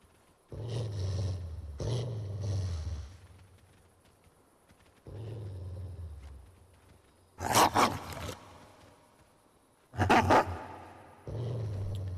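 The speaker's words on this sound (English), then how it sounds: "They are very realistic dog sounds, which is worrying because a furry made this." A video game dog barks and growls in loud, heavy bursts, with long rumbling growls and sharper snarling barks repeating across the stretch, alone with no talk.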